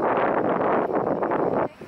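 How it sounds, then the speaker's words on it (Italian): Strong wind buffets the microphone on an open hillside lined with spinning wind turbines, a loud, steady roaring gust that fills the whole clip and drops off sharply near the end. "che però sento un bel vento"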